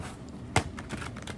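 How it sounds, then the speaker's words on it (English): Tarot cards being shuffled by hand, a soft papery rustle with one sharper riffle or slap near the middle and lighter flutters after, close and quiet with no talking. "Shuffling"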